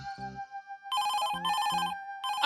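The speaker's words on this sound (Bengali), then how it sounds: "আহ, এই সময় আবার কে ফোন করছে?" A cartoon telephone rings in a bright electronic tone, sounding in several short repeated bursts, clear and fairly close, with no talk over it.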